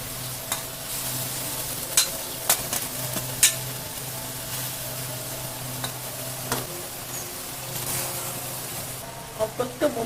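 Leafy greens with their stems go into a hot pan for a home-style Bengali dish. A steady sizzle runs under a low hum, while scattered sharp utensil clicks and scrapes come from stirring.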